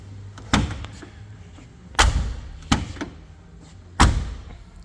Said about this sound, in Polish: Zamykają się tak jak w rasowym polonezie.